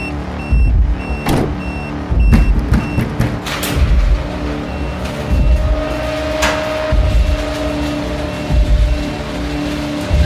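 A car engine runs inside an enclosed garage, a loud steady rumble broken by sharp clunks and bangs from nearby movement, with no talk.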